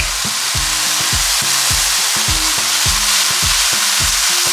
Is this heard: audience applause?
no